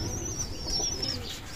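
A young KTM pigeon squab gives soft cooing calls with a thin high chirp over faint room noise, close and fairly quiet, no talking.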